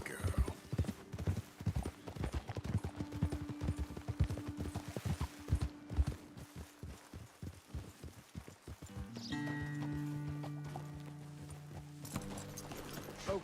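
Rhythmic clip-clop of horse hooves at a trot in Red Dead Redemption 2, steady and close, with a brief whinny-like tone and a low mechanical hum later.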